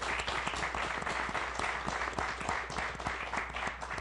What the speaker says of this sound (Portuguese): Uma salva de palmas pelo fórum.